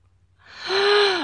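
A cat's yawn: a soft breath swelling into a drawn-out, rising-then-falling squeaky whine that ends abruptly, close and alone with no talk.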